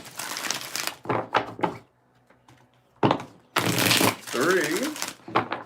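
Tarot cards are shuffled by hand in several quick riffling bursts separated by pauses, close up, with a voice talking between shuffles.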